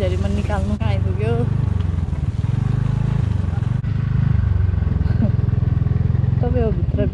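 A motorbike ridden through a downpour on a slippery road, its engine a loud continuous drone with pitch rising and falling as the rider changes speed, a person talking over it throughout.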